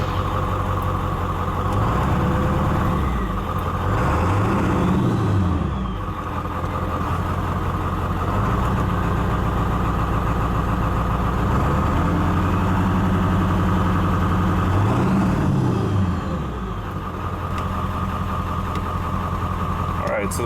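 A cold-started Ford F250 with a 7.3 Powerstroke diesel idles steadily nearby, a loud, continuous low rumble with a faint rhythmic clatter that holds constant throughout.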